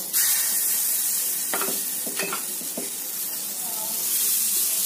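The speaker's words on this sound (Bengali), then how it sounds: "তেল ব্রাশ করে এই ব্যাটারটা আমি 2 হাতা করে দিয়ে দেবো।" Rice-flour batter hitting an oiled hot tawa griddle gives a steady frying sizzle and hiss throughout, with a few soft scraping taps as it is spread.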